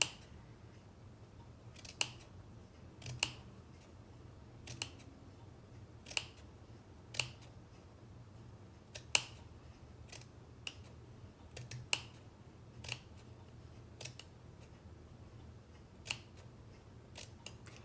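Scissors snipping through felt fabric for handmade flowers, a string of crisp separate cuts arriving in irregular clusters at close range over a faint steady background hum, with no voices.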